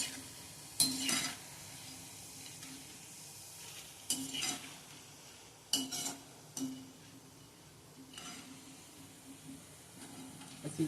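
Boondi, small gram-flour drops, frying in oil over low heat: a soft continuous sizzle with occasional louder scrapes and clinks of a spoon against the pan, steady and close, no talking.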